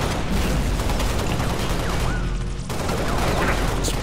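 Needle rifle fire from Halo crackles in dense rapid bursts amid constant loud battle noise, with whistling projectile streaks and a brief dip before the shooting resumes.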